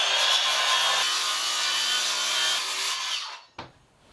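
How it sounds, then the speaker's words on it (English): Circular saw cutting a curve in wooden trim during a boat refit, a loud continuous rasping buzz of blade through wood lasting several seconds, then the motor cutting off and a short knock as it stops. "I can actually cut that curve with a circular saw more accurately than I can with a jigsaw"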